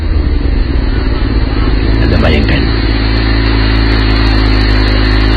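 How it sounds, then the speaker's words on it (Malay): A couple ride a motorcycle at night, the engine droning steadily and loudly throughout with a brief rise in pitch as it accelerates, while someone narrates over it. "Pasang kekasih menunggang motosikal."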